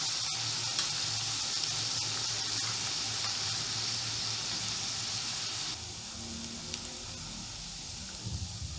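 Onion, ginger garlic paste and turmeric sizzle in a pan for pav bhaji, giving a steady, close frying hiss with stirring scrapes. The hiss eases somewhat partway through, and no one speaks.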